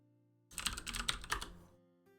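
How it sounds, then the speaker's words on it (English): A quick burst of typing on a computer keyboard, a dozen or so close, crisp key clicks over about a second before stopping, with a quiet hum underneath. "I'm going to type this into Jisho."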